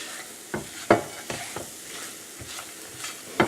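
A thick mixture of dates, figs, nuts and cardamom powder is worked in a pan, giving a quiet sizzle under a few distinct scraping pushes of the spoon, no talk.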